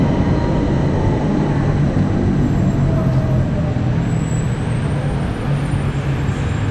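A Bangkok BTS Skytrain moves through an elevated station, heard as a loud, steady, low rumble and rolling roar with faint squeals above it and no voices.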